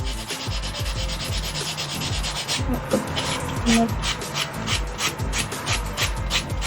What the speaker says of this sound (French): Hop, je passe un coup de de nettoyant.